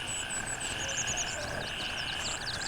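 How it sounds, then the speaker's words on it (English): Frogs croak in a chorus of repeated chirping calls, with birds among them, as ambient jungle sound in the tactical shooter game Gray Zone Warfare, steady and mid-distance with no talk. "I love all the ambient noises, the frogs, the birds chirping"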